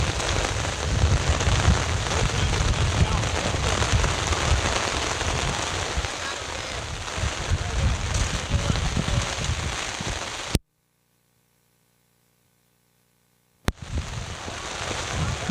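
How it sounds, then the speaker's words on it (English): Steady rain pours down on an outdoor soccer field during a summer match, a dense, continuous hiss of drops striking the surface that drops out abruptly for a few seconds before resuming at full strength. "Looks like a quick summer shower, though, folks."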